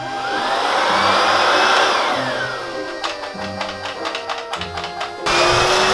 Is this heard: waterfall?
no